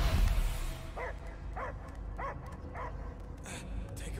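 A dog barks four times in an even rhythm at moderate loudness over a low rumbling background, followed by a couple of short higher yips, in the video game Marvel's Guardians of the Galaxy.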